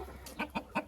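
Chickens in a farm coop give three quick, close clucks in a short rising rhythm over a low background hum.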